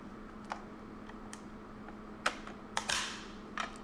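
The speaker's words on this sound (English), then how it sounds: "open up the battery case and remove the old battery. Just 4 screws." Small screws being worked loose from a hoverboard battery case, heard as faint scattered clicks and ticks against a quiet hum, with a slightly louder rattle near the end.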